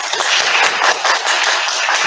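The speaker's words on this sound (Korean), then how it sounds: "박수로 한번 환영하겠습니다." A church congregation applauds to welcome an accompanist, a dense, even burst of many hands clapping close by for about two seconds.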